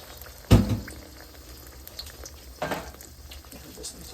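Tomato and egg cooking in hot oil in a pan, with a sharp sizzling burst as the food goes in, then a second flare of frying a couple of seconds later over a low, steady crackle.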